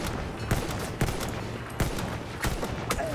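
Gunfire in the World War I shooter game Battlefield 1, a busy fusillade of sharp rifle cracks spaced roughly every half second over a dense, continuous battlefield din, fairly loud and without talking.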